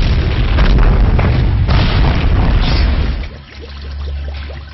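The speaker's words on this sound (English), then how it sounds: "This, in turn, will lead to an explosion in an inflammable atmosphere." A deep, heavy boom rolls through with sustained low rumble, then a brief dip and a lingering low-frequency tail; loud and close, with no talk over it.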